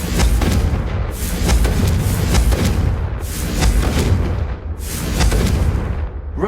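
Confringo blasting spell erupting in Hogwarts Legacy: a string of loud, close booms about every second and a half, each with a crackling burst and a heavy low rumble that never fully dies between blasts.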